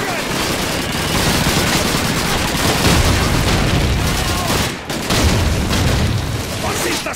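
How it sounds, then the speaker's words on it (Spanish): A dense barrage of gunfire and booming blasts fills a Call of Duty 2 battlefield, with a German grenade detonating amid the chaos; the din stays loud and continuous, briefly dipping before surging again, with shouting voices mixed in. "¡Una granada alemana!"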